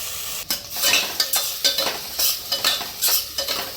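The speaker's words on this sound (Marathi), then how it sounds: "तांदूळ थोडेसे आपल्याला हे परतवून घ्यायचे" Soaked rice stirred in hot ghee for coconut sweet rice, with a constant close sizzle broken by quick rhythmic scrapes and clinks of a spoon on the pan.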